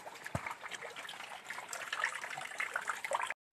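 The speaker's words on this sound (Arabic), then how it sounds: "افضي مية واملى مية افضي مية واملى مية." Water trickling and splashing, as if being poured out and refilled, with a gurgling flow close by that stops abruptly at the end.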